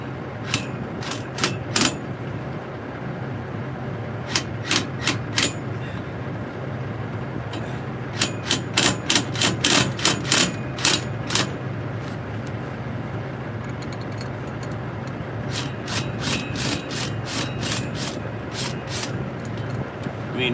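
Bursts of rapid mechanical clicking and rattling, like a power tool running in short runs, over a constant low drone and faint background noise.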